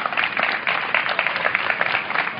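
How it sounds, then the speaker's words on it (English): Audience at a live public event applauding members of the Board of Parks and Recreation, a dense continuous wash of clapping, moderately loud and steady throughout with no speech over it. "A nice round of applause for our Board of Parks and Recreation."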